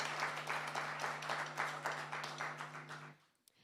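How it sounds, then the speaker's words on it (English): Applause from an audience at a young people's open mic night, a quiet spread of many hands clapping for about three seconds over a steady hum, then dying away into near silence. "The applause is necessary."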